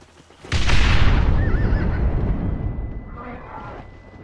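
In the video game Red Dead Redemption, a loud thump is followed by a horse's whinny, wavering and close, over a rumbling background.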